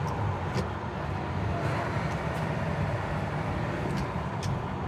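A 1967 Chevrolet Impala SS 396 with a manual gearbox cruises at steady speed, its engine a continuous low rumble with road noise as the driver shifts into fourth and downshifts to third, no voices.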